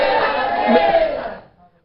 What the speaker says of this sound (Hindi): जोरदार तालियों के साथ उनका अभिनंदन है।